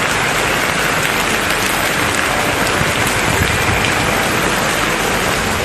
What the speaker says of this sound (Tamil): கயத்தார், கடம்பூர் உள்ளிட்ட பகுதிகளில் பலத்த மழை பெய்தது